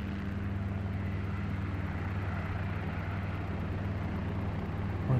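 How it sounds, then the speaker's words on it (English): A small helicopter flies in the X-Plane flight simulator, a steady, fairly quiet engine and rotor hum holding a constant low tone throughout, with no talk over it. "Fly around in a little helicopter like this."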